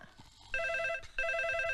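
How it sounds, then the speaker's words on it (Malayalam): A telephone rings indoors, two short electronic bursts of a bright warbling tone separated by a brief pause, fairly faint. "സാറേ ഫോൺ"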